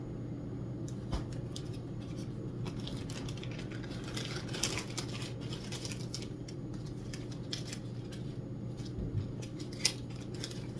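Quilting fabric being cut with scissors: a run of quiet, crisp snips and small ticking sounds, scattered unevenly over a low steady hum.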